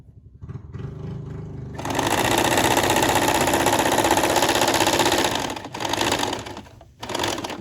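A sewing machine stitches a dress seam, its motor running in one steady, loud burst for several seconds, then stopping briefly and giving two short, quieter runs. No one speaks.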